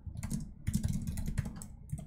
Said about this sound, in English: Why have I been typing so poorly today, David?